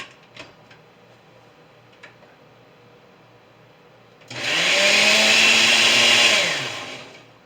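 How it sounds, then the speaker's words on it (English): After a few quiet seconds with light taps, a blender whirs loudly for about three seconds, its motor pitch shifting as it chops pumpkin pieces, then winds down. "I'm going to put a few pieces in just to see what I'll do in the blender."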